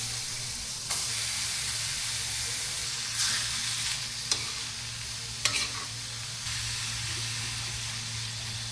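Beef sizzles steadily as it fries in butter in a pan, a constant close hiss with occasional sharper crackles and spatters, with no voices.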